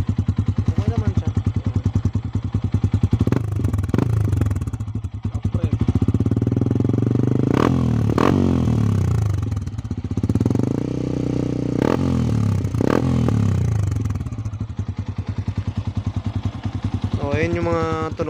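A Honda Sniper 150 motorcycle fitted with an MVR1 power pipe exhaust runs close by, with a steady low engine drone and several revs that rise and fall, while someone talks over it throughout.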